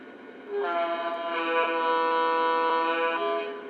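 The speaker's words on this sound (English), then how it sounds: "Let's hear how the horns sound." Steady sustained horn from a Lionel GP7 toy train locomotive in a Southern freight set, a bright multi-tone electronic blast holding for about three seconds, close and loud with no voices.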